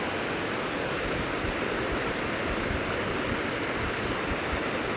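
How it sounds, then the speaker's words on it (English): Waterfall in the Wye Valley, Forest of Dean, running full after heavy rain: a steady, dense, broadband roar of falling water, loud and unbroken throughout with no voices. "Proper waterfall going there."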